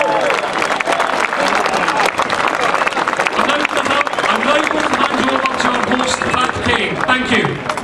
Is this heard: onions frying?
no